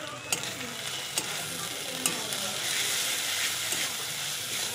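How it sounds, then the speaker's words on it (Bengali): Spoon stirring ground coriander and cumin into mustard okra in a pan, soft scraping strokes over a continuous sizzle, with a few sharper clinks against the pan. "ধনে গুঁড়ো, জিরে গুঁড়ো, ভালো করে মিক্স করে নেবো।"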